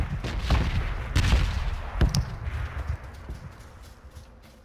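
Gunshots in the video game PUBG, a string of muffled distant reports and rapid bursts cracking over a low rumbling background, fading toward the end.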